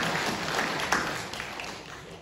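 Steady applause from a church congregation during a Sunday service, cheering on the children's classes: a dense wash of clapping that holds fairly even throughout and tapers slightly toward the end.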